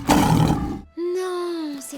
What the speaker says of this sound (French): Non, c'est un lion, ça.